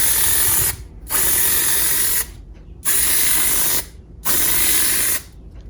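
Spray paint hisses onto the headlight trim of a Nissan Titan in four loud, steady bursts of roughly a second each, with short quiet gaps between them and no talking.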